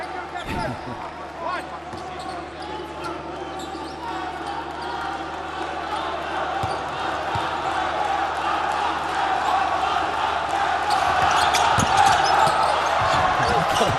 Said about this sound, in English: Guinea fans showing this incredible support, but I don't think you want to cheer that loud when your player's at the free throw line.